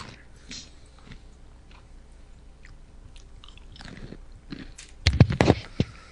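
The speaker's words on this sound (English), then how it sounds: "Someone's crunching." Someone crunches food right into a microphone, quiet scattered mouth noises at first, then a loud close burst of crisp bites and chewing near the end.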